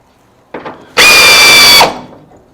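A power tool spins up on a parking brake assembly bolt during car floor pan prep work, with a short sharp lead-in, then a loud steady whirring burst of just under a second before it stops.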